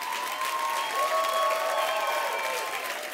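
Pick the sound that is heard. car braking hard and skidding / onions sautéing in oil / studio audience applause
studio audience applause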